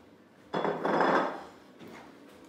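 Prawn linguine with tomatoes and rocket is dished up from a pan onto a plate. A short burst of metal-on-crockery clatter and scraping is followed by a softer second clink, close by and with no talk.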